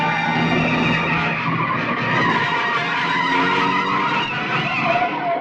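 A big vehicle skids out of control with a loud, sustained tyre squeal and engine roar that holds steady for the whole stretch, with no voices.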